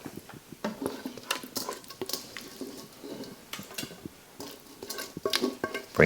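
Spatula scraping and smoothing a ham mixture in a dish, soft irregular scrapes and taps close by, with faint kitchen clatter.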